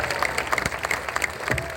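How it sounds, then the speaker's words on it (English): A crowd applauds cyclist Tiago Machado at a Tour Down Under 2017 team presentation, a steady patter of clapping heard at moderate distance with crowd murmur. "So give him a nice round of applause"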